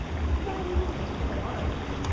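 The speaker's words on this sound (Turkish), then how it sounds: "Buradan su geliyor." Fresh water pours steadily near the forest edge at Freedom Beach in Thailand, a continuous rushing, splashing wash that holds even and fairly loud throughout with no pauses.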